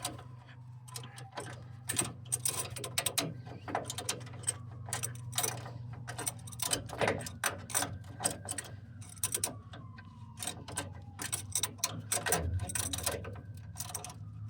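A ratchet tightens a bolt on the front end of a 1998 Toyota Tacoma 2WD during a leveling kit install, giving rapid repeated clicking bursts close by over a steady low hum, with no talk.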